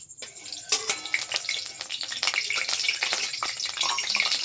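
Hot oil spits and crackles in a kadai wet with traces of water, sharp pops scattered over a steady sizzle, close and moderately loud.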